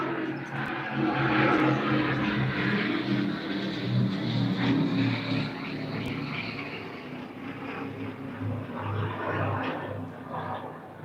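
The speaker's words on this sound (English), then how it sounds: "Now that, my friends, was a fucking plane." Airplane flying overhead at the Southport Air Show, a loud propeller-engine drone that swells and then fades slowly as it passes over the open ground.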